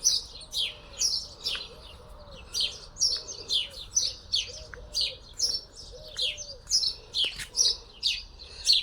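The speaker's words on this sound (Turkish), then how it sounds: "Kuş sesleri hoş duruyor" Repeated bright bird chirps and tweets in quick bursts, fairly close, over a quiet low hum with no talking.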